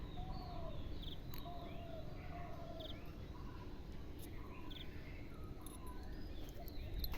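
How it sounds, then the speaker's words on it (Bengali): Birds and fowl call at dawn around a farming household: scattered chirps and clucks, some near and some distant, over a steady outdoor hum of insects. "পাখির আওয়াজগুলো আপনাদেরকে শোনাচ্ছি"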